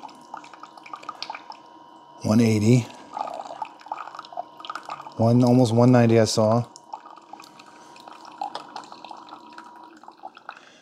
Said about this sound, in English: So it starts brewing right away.